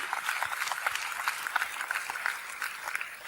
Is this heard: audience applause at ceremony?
yes